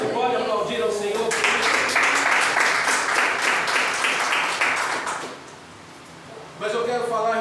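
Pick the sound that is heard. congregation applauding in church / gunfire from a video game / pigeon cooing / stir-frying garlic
congregation applauding in church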